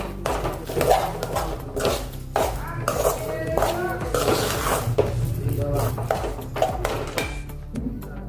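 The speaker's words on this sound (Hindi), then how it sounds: "अच्छे से मिक्स कर लेंगे" Stuffing stirred and mixed in a pan on the stove for a methi breakfast snack, with repeated scraping and clinking of a spoon against the pan, fairly close, running under ongoing speech.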